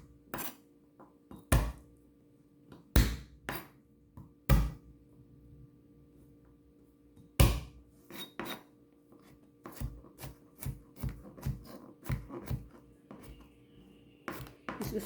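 A kitchen knife crushing garlic and onions on a cutting board, a series of sharp, close thuds and presses, spaced irregularly at first then coming in quicker clusters, with no talking.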